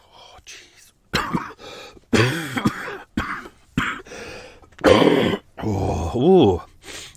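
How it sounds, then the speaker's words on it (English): Hard, harsh coughing fits from one person, a series of loud separate bursts with grunting throat sounds and short pauses between them, close to the listener. "I coughed so hard then I just farted."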